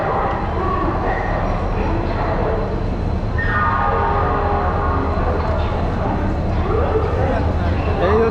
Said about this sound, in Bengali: এই হচ্ছে আমাদের প্রিয়াযোগা এক্সপ্রেস।